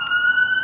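A loud, sustained electronic siren tone resembling an ambulance wails steadily and close for a brief moment, alone without talk.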